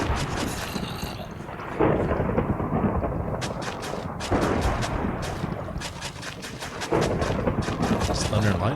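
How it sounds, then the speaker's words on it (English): Thunder rumbles through a Minecraft thunderstorm as a heavy, continuous low roar with repeated sharp cracking bursts, loud and dense throughout, with faint talk at points. "thunder and lightning is terrifying"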